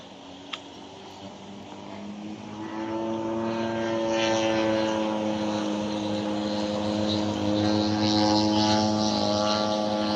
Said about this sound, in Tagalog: may napansin ako dito na lumilipad na laro ang eroplano